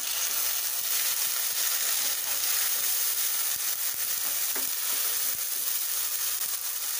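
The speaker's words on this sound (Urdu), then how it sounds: "ادرک لہسن کا پیسٹ میں نے آپ کو دکھایا تھا وہ چلا گیا، بس 2-3 منٹ کے بعد ہی 2-3 سیکنڈ سمجھ لیں، بس اس کو ہم نے ہلکا سا بھونا" Ginger garlic paste frying in hot oil with golden onions, a dense, continuous sizzle and crackle, close and steady for the whole stretch, with faint stirring clicks and no talking.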